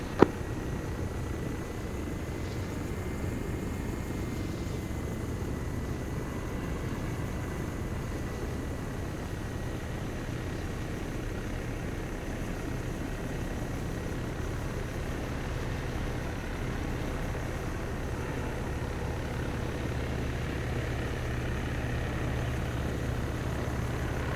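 A helicopter comes in to land at a roadside landing zone during military training, with steady engine and rotor noise droning at an even, moderate level throughout and no speech.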